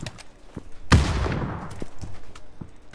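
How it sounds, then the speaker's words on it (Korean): Gunfire in the battle royale game PUBG during a competitive match, a sharp loud shot followed by a ringing decaying tail, with fainter scattered distant pops before and after. "3번 쪽 총소리 많이 난다."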